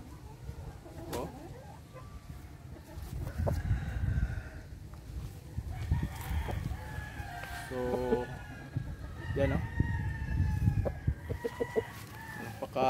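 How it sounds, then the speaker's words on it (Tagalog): A young six-month-old aseel rooster, big and tall, clucks and gives short crowing calls close by on a farm, alongside other fowl sounds, while someone talks over it at intervals. "Napakalaking manok."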